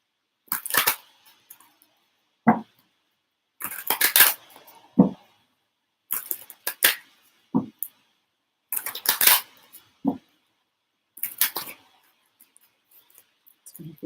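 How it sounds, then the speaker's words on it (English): Tarot cards being shuffled in bursts of crisp riffling and slapping, several loud irregular flurries separated by short pauses, close and sharp with no talk. "Someone said that the shuffling was annoying and loud."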